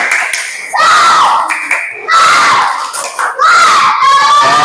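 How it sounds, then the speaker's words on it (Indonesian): A class of children performing the 'tepuk semangat' spirit clap chant: loud, close group shouting in three energetic bursts, with rhythmic clapping between them. "Coba tepuk semangat dulu."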